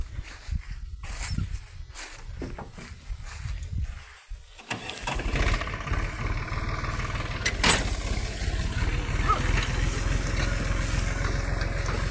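A slightly broken tractor engine that is leaking water turns over and catches around the midpoint, then runs steadily and loudly close by, with a constant low rumble and some clatter.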